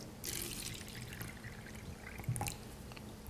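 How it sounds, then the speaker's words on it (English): Kangen water is poured into a cup holding a tea bag, making a quiet, steady trickle with a few splashy drips near the end. "So we're going to put the tea bag in and fill it up with water"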